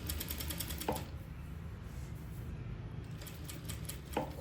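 A sewing machine runs a seam around a dress neckline with a 1 cm seam allowance, its fast steady needle chatter close and even, briefly slowing in the middle before picking back up, with a soft click near each end.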